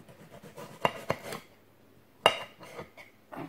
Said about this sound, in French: c'est les tomates que je coupe